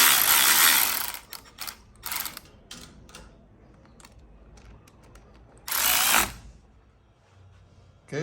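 Ratchet clicking as a wrench tightens the clutch cover bolts on a KTM 65 dirt bike, several bursts of rapid pawl clicks of varying length separated by pauses, close and clear with no talk.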